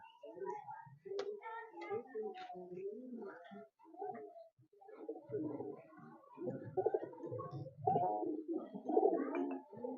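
Pigeons coo in repeated throaty, rolling calls that overlap in bursts, close and fairly clear against an otherwise quiet background.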